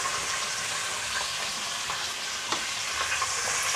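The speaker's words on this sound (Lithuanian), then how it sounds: "Tai kepa, pirškė, birbė, čirškė." Chicken wings fry in hot oil with a continuous, fairly faint crackling sizzle and scattered small pops, heard close with no voices.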